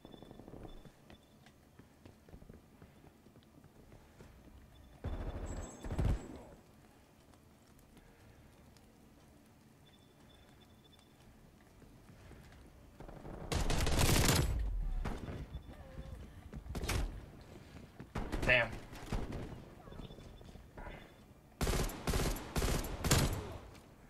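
Bursts of gunfire from a multiplayer match in Call of Duty Black Ops Cold War, with a few scattered shots followed by louder rapid volleys near the end, over a faint background.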